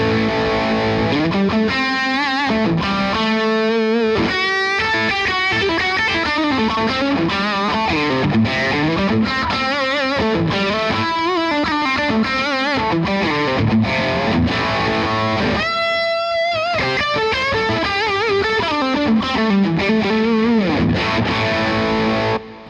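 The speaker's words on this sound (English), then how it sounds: "So I've got my lead sound when I have the tube screamer in" Overdriven electric guitar lead tone through an Ibanez Tube Screamer overdrive plugin in an amp sim, playing a continuous distorted melodic phrase with bends and sustained notes for over twenty seconds, loud and alone without talk.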